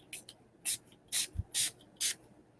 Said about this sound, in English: So I'm going to go ahead and spray that on my arm.